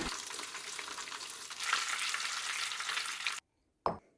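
Chicken pieces frying in oil in a cooking pan, a steady loud sizzle for over three seconds before cutting out, then a brief final burst of frying.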